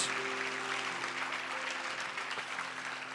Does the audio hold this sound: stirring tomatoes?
no